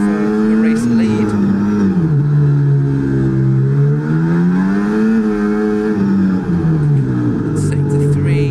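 F1 race car engines from an F1 video game set at Monaco, a continuous loud high-pitched whine that rises and falls steadily as cars chase for position, with commentary running underneath throughout.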